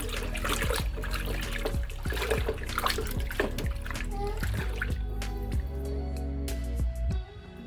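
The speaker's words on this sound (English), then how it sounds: "you add in the hot boiling water into it and give it another stir" Hot boiling water is poured into dissolved powdered milk for homemade yogurt, a close steady splashing and trickling stream with clinks and stirring, ending in a quieter tail; a voice speaks over it.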